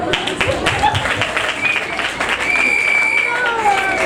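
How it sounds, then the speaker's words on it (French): Wedding reception guests applaud the newlywed couple, a burst of clapping and crowd noise lasting a few seconds, fairly loud and close, with voices in the mix. "Donnez un applaudissement pour"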